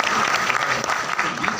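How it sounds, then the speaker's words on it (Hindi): An audience claps for a question at a webinar at IIITD, a steady, dense patter of many hands filling the room from start to finish without pause. "तालियां क्वेश्चन के लिए।"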